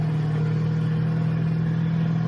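A big Ford truck passes on the road, heard from inside a moving vehicle as a steady, loud engine drone and road rumble with no talking.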